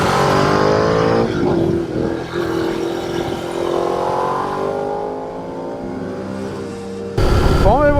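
Ducati Multistrada 1200 S (2012) motorcycle engine droning loudly and steadily under wind roar while riding, ending with a brief rev rise.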